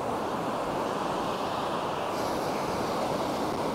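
Steady broadband wash of ocean surf breaking along Druridge Bay beach in Northumberland, a continuous roar with a faint wind rumble throughout and no voices.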